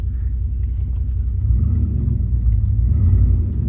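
A pickup truck engine idles with a raspy exhaust heard from inside the cab, a low, steady rumble that swells slightly partway through, close and continuous with no talking.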